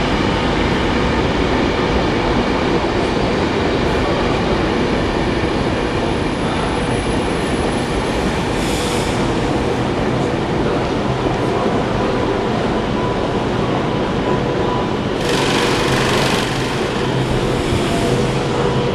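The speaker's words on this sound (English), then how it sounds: "The train coming into this platform going to Glasgow Central." Virgin passenger train bound for Glasgow Central pulling into a station platform, a loud continuous rumble and roar of wheels and engine held close throughout, with brief hissing bursts over the top.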